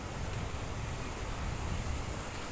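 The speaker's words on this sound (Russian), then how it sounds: "здесь какая-то река течет. И она прям бушует" Steady, dense roar of a rushing river near a large waterfall in the Crimean grounds of the Vorontsov Palace, a continuous broadband wash with no breaks.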